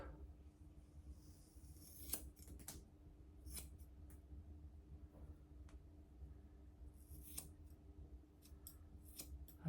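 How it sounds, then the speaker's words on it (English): Crisp scissor snips of straight scissors cutting hair, a handful of quick sharp cuts spaced irregularly over a low steady room hum, with no one talking. "I'm using the straight scissors"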